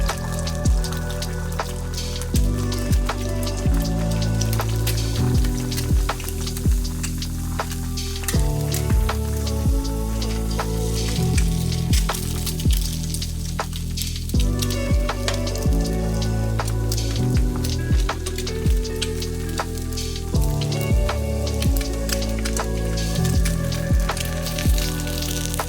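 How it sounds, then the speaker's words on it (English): Sunny side up egg frying in a covered pan over medium-low heat, giving a steady crackling sizzle that runs unbroken throughout, fairly loud and close with no talking. "To cook the sunny side up egg, use medium-low heat."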